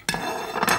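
Plates clink as they are brought over and set down in a home kitchen, two short ceramic knocks close by with quiet clatter between.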